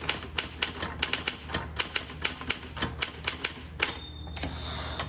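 Rapid keystrokes on a 1959 Smith Corona Galaxie typewriter clack in an uneven rhythm, then its line-end bell rings out near the end, ringing on briefly, close and loud.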